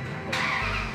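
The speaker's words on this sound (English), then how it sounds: "Start the truck." A truck engine cranks and fires up on a chassis dyno during an emissions drive-cycle test. The noise hits abruptly, then settles into a loud, low, steady rumble.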